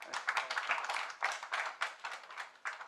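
An audience at a political debate applauds steadily, many hands clapping in dense, slightly uneven bursts that swell and dip over a few seconds.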